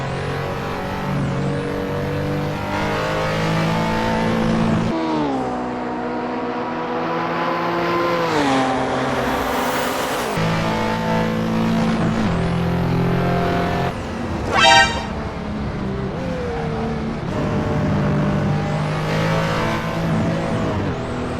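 RUF Yellowbird engine in a sim racing game, a steady loud drone with harmonic pitch rising and falling through gear changes, braking and acceleration across the stretch, with a brief sharp higher burst midway.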